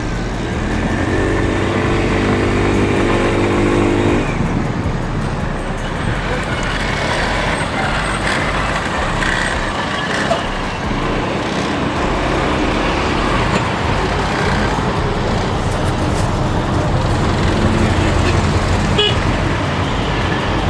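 A group of new 150cc T-3 mopeds rides together on a road, a continuous loud engine drone with passing traffic noise and occasional horn toots throughout.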